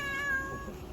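A single short meow from a Russian Blue cat at a veterinary clinic, close and fairly quiet, tonal and slightly nasal, fading out within a second with no talking over it.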